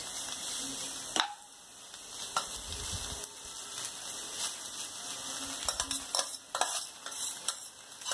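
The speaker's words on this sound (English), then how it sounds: "Once the vegetables are done, add the boiled rice to it." Vegetables and boiled rice stir-fry together in a pan for Indian-style fried rice, a steady close sizzle with repeated scraping and clinking of a spoon stirring against the metal.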